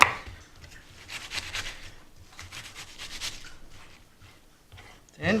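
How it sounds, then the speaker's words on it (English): Onions are cut with a knife on a board, heard as soft rubbing and scraping strokes in uneven bursts, fairly quiet and close, with a sharper knock at the end. "I have an unorthodox way of cutting the onions"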